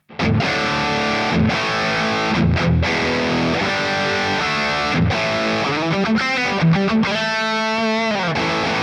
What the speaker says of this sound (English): Increasing the gain, we've got our lead amp.